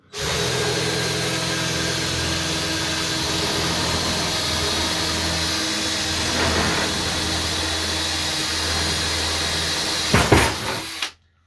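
A loud, continuous motorized drone of a drill boring into a metal-overlaid coat-of-arms shield hums steadily for about ten seconds, with a brief louder burst near the end before it cuts off.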